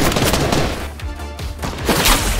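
Loud gunfire rings out in Fortnite, a series of sharp shots and booming impacts over dense game noise and effects across a couple of seconds.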